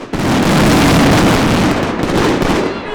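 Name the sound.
fireworks at Christmas market opening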